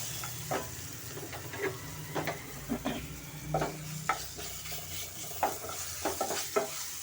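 Ginger garlic paste sizzles in a pan over a medium flame, a soft steady frying hiss broken by repeated close scrapes and knocks of a spoon stirring it.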